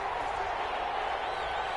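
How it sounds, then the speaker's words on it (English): Stadium crowd roaring in a Madden American football video game before a big third down, a steady, broad wash of cheering with no breaks. "the crowd getting into it as we come up on a big 3rd down"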